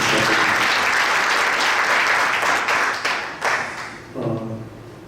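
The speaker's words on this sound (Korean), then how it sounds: "최충원 목사님 박수 부탁드립니다" A crowd at a church general-assembly celebration applauds a pastor, a full sustained round of clapping that thins and tapers near the end.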